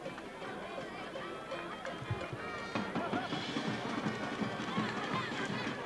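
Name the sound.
crowd at a high school football game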